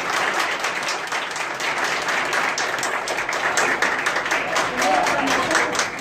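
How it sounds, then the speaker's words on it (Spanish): Steady, dense applause from a crowd, loud and continuous throughout, with voices mixed in beneath the clapping. "Y un aplauso."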